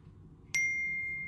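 A phone notification chime rings out once, a sudden bright ding with a long sustained ringing tone over quiet low room hum.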